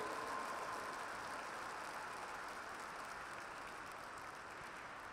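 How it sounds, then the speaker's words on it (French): Audience applause at an indoor show jumping event, the Saut Hermès CSI 5* competition, a faint, distant, even wash of clapping that holds steady throughout with no distinct individual claps. "vos applaudissements encore une fois pour le champion olympique Philippe Rosier."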